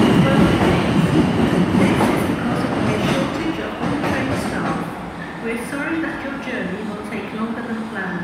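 Class 444 electric unit 444041 pulls out of Bournemouth toward Weymouth, a loud rolling rumble with wheel clatter that gradually eases as it moves off, with a voice faintly present.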